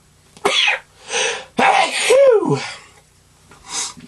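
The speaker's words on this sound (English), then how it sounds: "I'm going to sneeze" A single sharp sneeze bursts out among short vocal sounds, loud and close, with brief quiet gaps around it.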